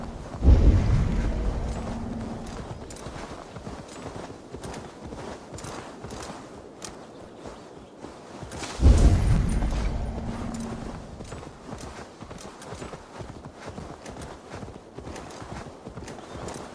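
A horse's hooves clip-clop steadily at a walking pace through a forest in Gloucestershire in Assassin's Creed Valhalla, with two heavy low thuds breaking in partway through.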